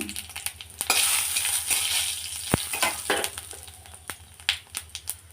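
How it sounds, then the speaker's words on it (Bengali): Panch phoron and dried red chillies frying in hot oil for a dal tempering, a close steady sizzle with scattered crackles and pops, plus a few clinks of a utensil against the pan. "এখানে আছে পাঁচফোড়ন আর শুকনো লঙ্কা সম্বারের জন্য"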